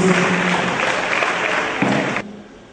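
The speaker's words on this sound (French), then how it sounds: "On applaudit très fort, Excellence." Loud applause fills a hall at a formal ceremony where medicines are donated to children with sickle cell disease, a dense crowd clapping for about two seconds before it cuts off sharply, leaving quiet room tone.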